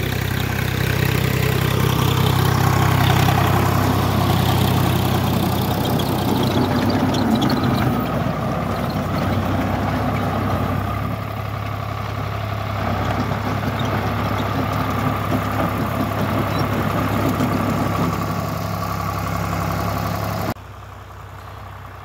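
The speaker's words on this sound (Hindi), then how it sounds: "हमारे पीछे ट्रैक्टर आ रहा है," A tractor engine drones steadily nearby, loud and continuous, then cuts to a quieter background near the end.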